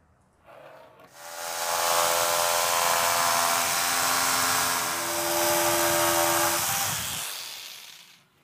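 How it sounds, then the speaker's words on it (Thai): A Jemar power jigsaw buzzes steadily through wood for about six seconds, loud and close, its pitch shifting slightly as the cut curves, then stops. "อันนี้คือจุดเด่นของพวกจิ๊กซอก็คือซอยโค้งแบบนี้นะครับ"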